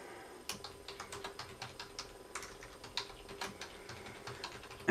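Someone types an email address on a computer keyboard, a run of crisp, evenly spaced keystrokes that sound close and fairly quiet, with no talk.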